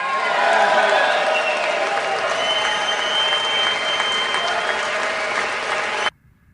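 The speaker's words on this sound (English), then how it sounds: "this generated long, sustained applause, but only from the Republicans" Sustained applause from Republican senators at a State of the Union address, a dense, even roar of clapping that holds steady before cutting off abruptly near the end.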